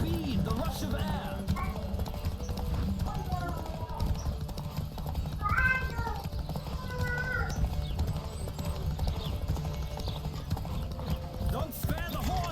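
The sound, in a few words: horse galloping, from a video game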